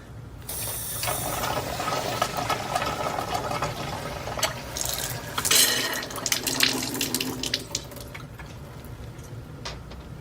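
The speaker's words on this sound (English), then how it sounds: "Next, please turn on the water flow slowly for about 3 to 5 seconds." Water from a Kangen SD501 under-counter water ionizer runs into a sink, a continuous splashing flow mixed with clicks and mechanical rattles, starting abruptly and holding steady to the end.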